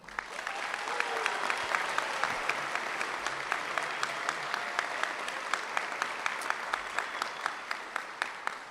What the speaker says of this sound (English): Please give a round of applause for Sergeant Knowlton.